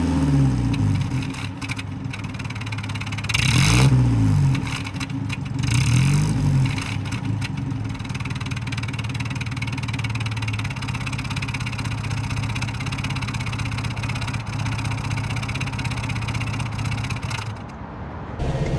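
A 1950s Riley One Point Five saloon's engine idles steadily from behind the car, rising in two brief revs early on before settling back to an even, close-up idle.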